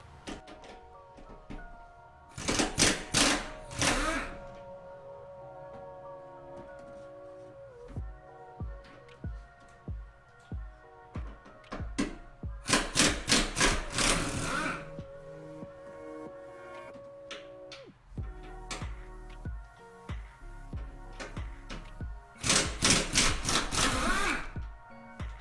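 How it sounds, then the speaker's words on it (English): A pneumatic impact gun on a 14mm socket with an extension loosens lug bolts while lifting a 2006-2014 first-generation Honda Ridgeline, in three loud rattling hammering bursts separated by clanks and handling noises. "Take the impact gun"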